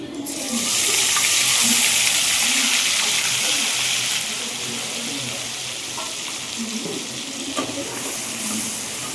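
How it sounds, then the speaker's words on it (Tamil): Ground onion paste sautéing in a pan for a fish curry, a loud bright sizzle that flares at first and then settles to a steadier frying hiss, broken by occasional stirring clicks close by. "இது வெங்காயம் கொஞ்சம் வதங்கட்டும்."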